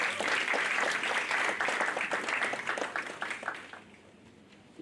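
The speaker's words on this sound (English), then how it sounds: "deserves a round of applause" An audience at a university culture day ceremony breaks into applause, a dense wash of clapping that holds for a few seconds, then thins into scattered individual claps and fades.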